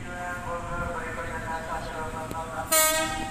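Eight-car passenger train KA 2444 near Jalan Tanjung Priok, Jakarta, rumbling steadily at close range beneath a spoken station announcement, with a short bright horn-like burst near the end.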